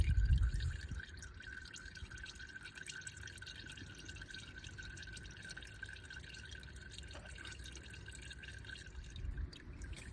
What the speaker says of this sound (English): it takes approximately 20 minutes to drain it down nicely.